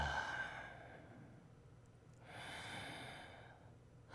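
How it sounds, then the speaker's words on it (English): A slow, deep breath drawn in and then let out in a soft, close ASMR setting, quiet and airy with a long exhale following the inhale and no talking. "Now, let's take a moment to breathe."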